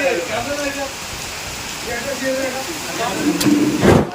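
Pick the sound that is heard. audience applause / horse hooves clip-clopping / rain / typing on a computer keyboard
rain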